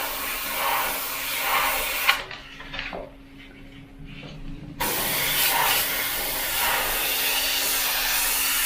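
An Eclipse Takumi airbrush sprays thin paint with a steady loud hiss for a couple of seconds, stops briefly with a faint clink, then resumes as a continuous airy hiss.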